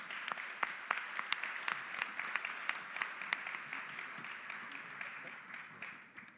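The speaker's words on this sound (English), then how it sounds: "If you could have a round of applause for everyone, please" Modest applause from a panel-session audience at a talk on floating marina infrastructure; sparse individual claps stand out over a soft wash of clapping that fades away near the end.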